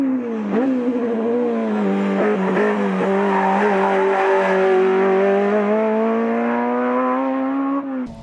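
A Toyota AE86 Hachiroku pushed hard on a time attack run, its engine screaming at high revs in one loud continuous pull, with a brief dip and gearchange near the start and a sharp drop at the very end.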